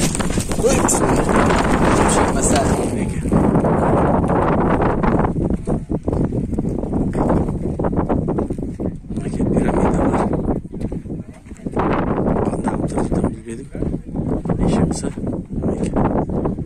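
Horse-drawn carriage ride near the Egyptian pyramids, with faint hoof clip-clops under steady wind buffeting the microphone and people talking throughout.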